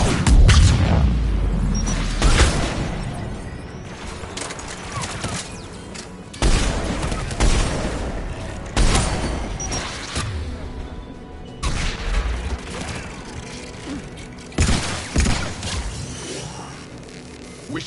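Anti-aircraft guns firing in Mass Effect 3, heavy booming volleys arriving in loud bursts every few seconds with whooshing shells and crashing impacts between them.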